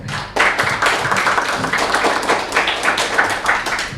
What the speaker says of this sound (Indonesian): Ya, tepuk tangan buat Mbak Fianda ya.